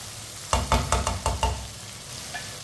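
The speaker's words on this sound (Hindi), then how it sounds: "3 मिनट के लिए मैंने फ्राई कर लिया चिकन को, आप देख सकते हैं।" Chicken frying in a pan, with a few loud sizzling bursts and stirring scrapes in an uneven rhythm over a low steady hiss, then quieting.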